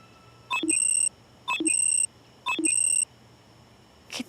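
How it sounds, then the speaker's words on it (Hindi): An alarm clock sounds three even, electronic beep patterns about a second apart, each a short chirp followed by a sustained high tone, clear and close in a quiet room. "कितने अलार्म लगाए हैं इसने सुबह उठ के क्लास आने के लिए।"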